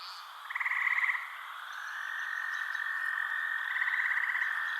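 Frog calling in the Amazon rainforest: two bursts of rapid, trilled croaking about three seconds apart, with a steady high insect-like drone between them, close and clear with no voices.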